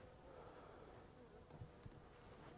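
Honey bees buzz around an open hive during winter preparation, a soft steady hum close by with a brief sharp knock at the very end; no voices.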